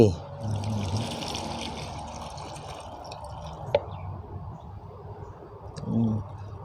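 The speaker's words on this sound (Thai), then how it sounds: "วันนี้ผมจะแช่น้ำประมาณ 5นาที" Water trickling and dripping over sprouting mung beans as they are soaked, a soft steady flow with a few brighter drips, close, while someone speaks over it.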